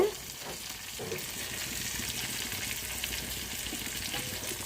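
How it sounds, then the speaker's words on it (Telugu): Mustard seeds, cumin and dals fry in hot oil for a tempering, sizzling and crackling steadily at close range, faint but continuous throughout. "పోపు లేగాలి"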